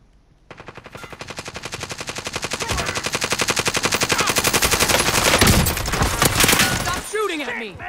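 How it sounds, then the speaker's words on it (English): Rapid automatic gunfire in a multiplayer shooter game, a long, loud, unbroken burst of evenly spaced shots lasting about six seconds, close by, ending with a few trailing sounds. "Stop shooting at me!"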